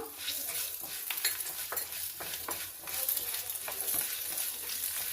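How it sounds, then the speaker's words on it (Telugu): Raw sesame seeds dropping into a hot frying pan, a dense close sizzle with quick crackles and light stirring scrapes spread across the moment, with no one speaking. "వేగిన తర్వాత దీంట్లోకి నూగులు వేస్తున్నాను"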